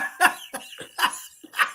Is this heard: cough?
yes